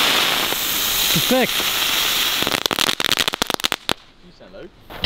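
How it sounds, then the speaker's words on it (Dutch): A crackling ground-flower firework set off outdoors, throwing off a burst of sharp, rapid crackles and pops at close range while people talk and exclaim over it, then the sound fades to near quiet. "Oh, grondbloemen met knetter."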